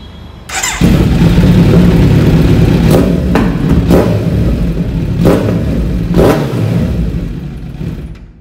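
Kawasaki Z900 motorcycle fitted with a full Akrapovic exhaust system starts up and revs hard, loud and close, with a deep rumbling idle broken by about four sharp throttle blips spaced a second or so apart.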